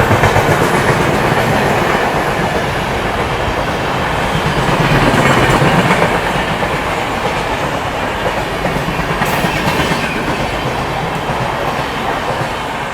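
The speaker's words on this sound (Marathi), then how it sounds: "चला हाय स्पीड स्किप आपल्याला दाखवलं मी आता प्रगती एक्सप्रेसचं." Pragati Express with a WP7 locomotive rushing past at high speed on the main line; loud, close, continuous roar with rapid clickety-clack of wheels and a brief squeal, no voices.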